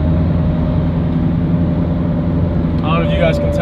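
A Corvette C7 Z06 runs with a steady low engine drone and a faint supercharger whine held under it, continuous and close, while someone talks over the top near the end.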